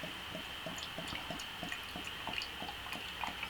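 Medusa Ruby Red Ale glugs and drips as it pours, with small irregular splashes and fizzing over a steady background hum, close and fairly quiet.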